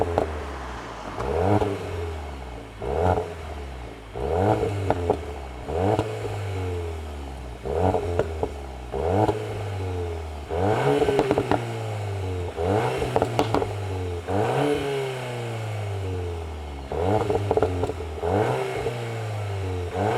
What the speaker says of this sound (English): Let's actually listen to the exhaust.